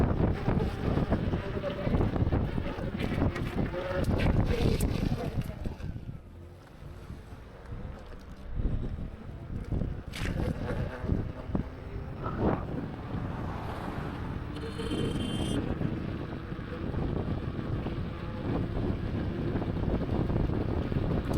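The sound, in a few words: wind while riding a motorcycle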